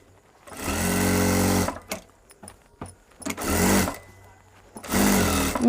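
A sewing machine stitches georgette cloth in three loud, sustained whirring runs, each lasting about a second or more, separated by quiet pauses with light clicks and handling noises, heard close up.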